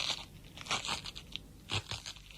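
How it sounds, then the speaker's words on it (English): A common garden cabbage crunched and twisted as a sinewy bone-and-flesh sound effect, giving two or three close, wet crunching bursts with quieter squeaks between, alone without speech. "This is just a common garden cabbage I've got here, and this is used for more sort of sinewy sounds."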